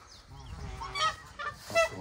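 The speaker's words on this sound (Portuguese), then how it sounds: "Cisne." A swan at a waterfowl farm gives short, faint honking calls, two or three bursts over a quiet background.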